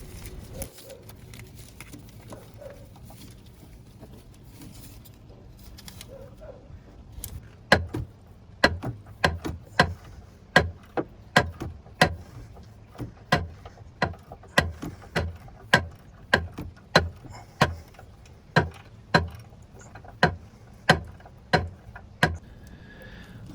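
Ratchet wrench backing nuts off exhaust supports on a Volvo Penta V-8 boat engine, a long run of crisp evenly spaced clicks up close, with some quieter fumbling before the ratcheting starts.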